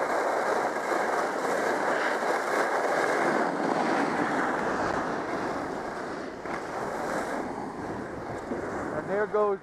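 Gusty wind on top of a ski mountain at Stratton, about 17 to 18 miles an hour, roaring steadily across the microphone for the whole stretch, with a few brief faint voice-like tones near the end.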